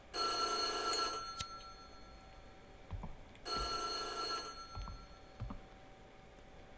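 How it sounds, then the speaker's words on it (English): Telephone bell ringing in the horror video game White Day, two bright, bursting rings separated by a pause, with faint thuds and footsteps in between. "The phone's fucking ringing."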